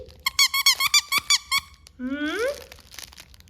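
A dog named Zinj plays with a squeaky pet toy, squeezing out a quick run of about eight sharp squeaks, then a longer rising squeal, close and loud.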